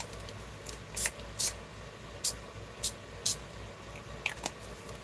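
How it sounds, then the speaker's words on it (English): Distress ink sprayed in short, sharp bursts onto a craft project, with about six quick hissing spritzes spaced irregularly over a quiet background. "And let's spray a little bit of the brown"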